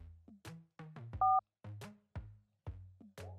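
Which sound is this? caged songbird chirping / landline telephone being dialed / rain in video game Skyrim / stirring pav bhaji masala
landline telephone being dialed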